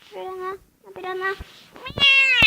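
Nabi, a pet cat, lets out a series of clear meows close by, two drawn-out calls followed by a higher, more strained one near the end.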